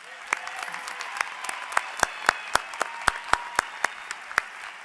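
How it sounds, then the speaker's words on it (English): Commencement audience applause for two student speakers, a soft wash of distant clapping punctuated by a string of sharp, regular claps from someone close by, quite faint overall. "Will everybody please join me in thanking both of our student speakers with another round of applause?"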